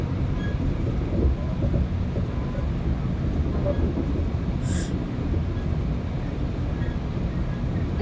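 A Metrolink commuter train runs past a train yard toward Fullerton. Steady low rumble and rail noise continue throughout from on board, with a brief high squeal partway through.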